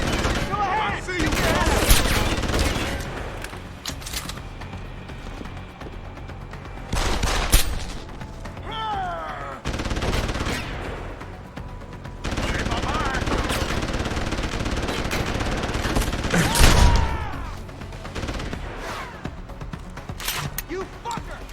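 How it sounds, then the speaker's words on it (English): Rapid automatic gunfire and bursts of shots in the video game Deus Ex: Human Revolution, loud and repeated in several volleys across the clip, mixed with game effects and voices shouting in between. "Gunshots! Sounds like trouble!"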